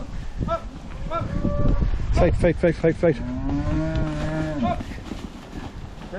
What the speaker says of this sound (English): take in the batch of heifers